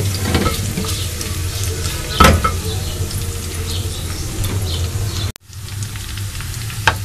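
Onions fry in hot oil in a pan, giving a loud, steady sizzle broken by sharp stirring clinks. The sizzling stops abruptly for a moment and then resumes.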